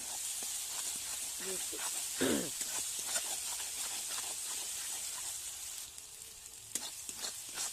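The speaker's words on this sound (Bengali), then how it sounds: "পেঁয়াজ ভাজা হতে আদা রসুনের পেস্টটা দিয়েছি" Ginger garlic paste sizzling in hot oil with frying onions, a steady soft hiss with brief stirring scrapes, heard close and fairly quiet while a voice talks over it.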